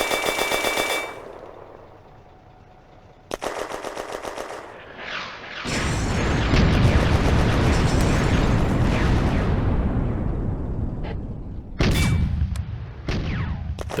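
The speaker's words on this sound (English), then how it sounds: "Mortar rounds land in the German position." Mortar rounds explode on a German position at a May 1940 bridgehead, with dense bursts of heavy booms and rattling gunfire, a lull, then a long loud barrage and further sharp blasts near the end.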